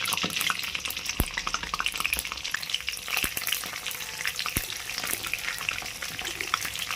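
Spices, including pepper and cumin, crackle and sizzle steadily in hot oil while tempering for a thokku, with occasional sharp pops and the clink of a stirring spoon close by.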